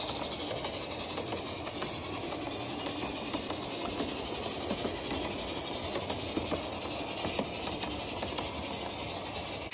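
A live steam model train running a combined consist at night in light misting rain, with a steady hiss and soft rolling rumble, faint light rhythmic clicking of wheels on track beneath, continuous and fairly quiet.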